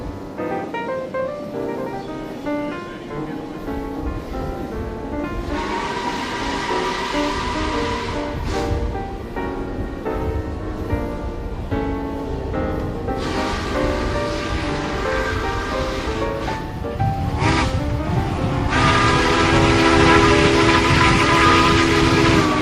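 Southern Pacific 4449 steam locomotive hauls an excursion train from Portland to Tacoma, Washington, a steady loud rumble of running gear and rail noise building over the span, with bursts of horn or whistle tone rising and falling.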